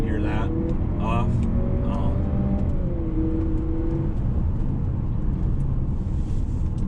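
A 2020 Lexus NX 300 F Sport revving with artificial active sound control turned on, giving a pronounced tonal engine hum that climbs then settles over constant low road rumble, near and loud, with brief louder bursts early on.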